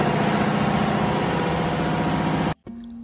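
Loud, steady drone of ship engine room machinery aboard a vessel, a dense continuous rumble with a mechanical hum that cuts off abruptly near the end, leaving a quieter tone.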